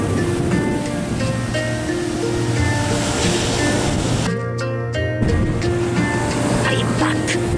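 Ocean waves wash at a beach in a cartoon, a steady surf roar that briefly cuts out and then resumes under faint background music.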